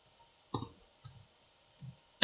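A few sparse, crisp clicks from a computer keyboard while Java code is typed, with short pauses between the quiet taps and a sharper click at the end.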